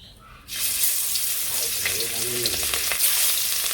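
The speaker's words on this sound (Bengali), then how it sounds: "এই পাশে যে তেল গরম হয়ে গেছে এখন মাছগুলো দিয়ে নেই" Small spiced fish drop into hot oil and break into a sudden loud sizzle that keeps crackling steadily after a quiet start, with a faint voice underneath.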